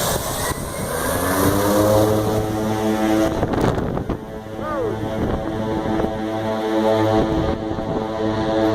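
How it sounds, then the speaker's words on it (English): A propeller airplane passes overhead on a morning outdoors, its engine drone loud and steady, rising and falling in pitch as it flies by, with some background noise. "I know it's just a plane, but it's still very cool"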